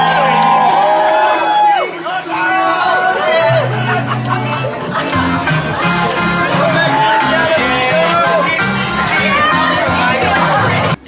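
Noisy young crowd at a corporate party event, with loud overlapping chatter, laughter and occasional whoops and shouts forming a dense, continuous babble.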